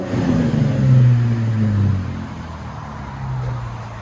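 A 2012 Cadillac CTS with a 3.6L V6 and rear muffler delete on 4-inch tips revs once, a deep, loud exhaust rumble that swells and then settles back to a low idle, with no voices.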